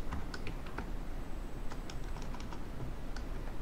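Someone types a short word on a computer keyboard into a PowerPoint text box, giving a quick, quiet patter of close key clicks over a faint background hiss.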